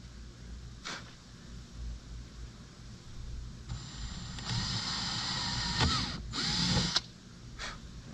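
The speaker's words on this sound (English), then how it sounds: "Change out the drill bit, center of the holes, nice and slow." A power drill whirs in short bursts, rising and falling in pitch as it bores holes for a bimini top on a Kemimoto UTV, with brief pauses between runs against quiet background noise.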